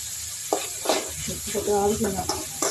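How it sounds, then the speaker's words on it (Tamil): Curry leaves hit a hot pan of vegetables with ginger and garlic for vegetable kothu parotta, bringing soft sizzling, frying crackle and a few stirring scrapes under a person talking close by. "இது லைட்டாக வதங்கிட்டுங்க கருவேப்பிலை பிச்சு போட்டுக்கிறேங்க"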